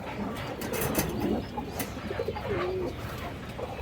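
Several Chila breed pigeons coo in low, throaty calls that overlap and repeat, close by, with soft rustling and ambient noise throughout.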